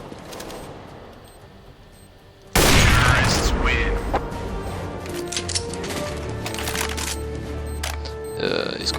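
Gunfire in the video game CS:GO erupts suddenly after a quiet stretch, a dense, loud burst of shots and booms that keeps going, with someone talking over the game sounds.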